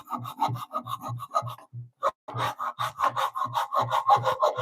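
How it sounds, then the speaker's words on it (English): A hand saw rasps through a piece of wood clamped in a vise, its steady back-and-forth strokes close and rhythmic, briefly pausing before resuming with a harsher, binding push-pull as the blade pinches in the cut. "Making it 10 times harder because it's pinching my saw so much."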